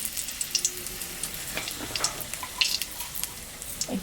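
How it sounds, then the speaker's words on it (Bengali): Dry red chillies crackling in mustard oil left from frying fish, a faint sizzle with scattered small pops and crackles nearby, no voices. "মাছ ভাজা তেলের উপরে আমি শুকনো লঙ্কা সম্বরা দিলাম,"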